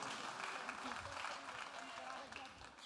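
A church congregation applauds during a healing ministry service, a moderate, continuous patter of clapping with a voice speaking over it.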